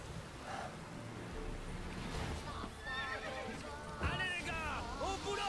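A horse in The Witcher 3 whinnies several times, with hoof clip-clops among bandit ruins, while someone talks over the game sounds.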